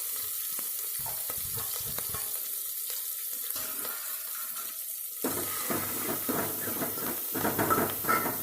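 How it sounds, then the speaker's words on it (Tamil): Dried red chillies and curry leaves go into hot oil for crab rasam, and a faint crackle builds to a louder, denser sizzle with spattering pops midway, continuing close and steady. "வரமிளகாய், கருவேப்பிலை இதெல்லாம் அப்படி கொட்டிடணும்."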